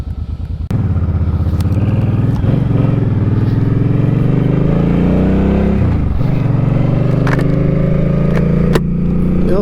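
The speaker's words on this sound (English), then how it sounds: "it sounds like somebody's modified the exhaust on it, because it's kind of on the loud side." A Harley-Davidson motorcycle with a modified, loud exhaust starts and rides, its engine rumbling deep and steady close by while revs rise and fall between gear changes.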